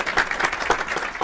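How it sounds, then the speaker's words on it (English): Steady applause from a small crowd, a dense patter of claps holding even volume for a moment with no voices over it. "Insert applause here."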